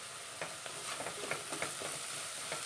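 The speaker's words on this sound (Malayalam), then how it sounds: "നമ്മുടെ സവോളയൊക്കെ ഒന്ന് വഴണ്ടി വന്നിട്ടുണ്ട്" Onions and curry leaves fry in a pan with a steady close sizzle, broken by several soft stirring scrapes at irregular intervals, and no voices.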